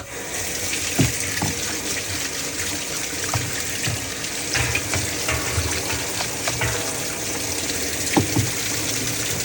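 A Whirlpool washing machine fills with water at the start of its wash cycle, a steady close rush of flowing water with occasional knocks and clicks over the whole stretch, no voices present.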